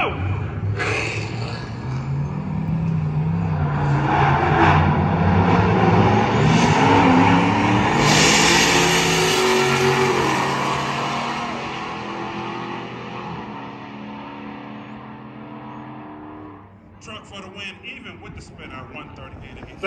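A boosted, non-stock Chevrolet Silverado drag races, its engine roaring and rising through gears as it launches and pulls away, loud and close with crowd voices and shouting over it before it fades into distance.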